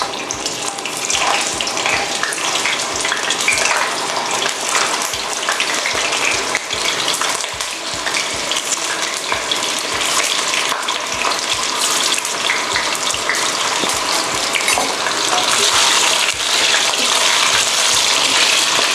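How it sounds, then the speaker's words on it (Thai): Shrimp balls frying in a small amount of oil in a pan give a continuous hissing sizzle with crackly bubbling, even and close throughout. "ใส่น้ำมันลงในกระทะนะคะ ไม่ต้องมากนะคะ แล้วก็ นำลูกชิ้นนะคะ ที่เราเสด็จน้ำเรียบร้อยแล้วลงทอดค่ะ"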